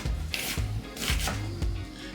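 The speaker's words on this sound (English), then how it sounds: "I'm gonna start out by cutting up the onions" A knife chops onions on a cutting board in a series of close, irregular thuds and scraping strokes, with no voices.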